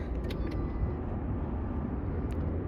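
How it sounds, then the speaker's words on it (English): A 2017 Ford Fiesta engine idles steadily at a low, even rumble, with a few faint clicks over the top. "We did 2 starts with 2 keys and it runs, and it actually sounds healthy."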